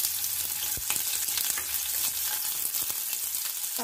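Mustard seeds and onion sizzle steadily in hot oil in a pan while cooking crab masala, a dense continuous frying hiss with occasional stirring scrapes, close and alone.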